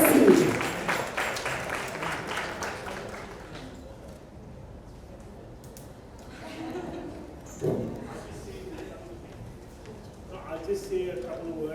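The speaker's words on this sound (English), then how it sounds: "Let's give them a big round of applause" An audience at a showcase event applauds the winners, a burst of crowd clapping that fades within a few seconds as a speaker begins talking.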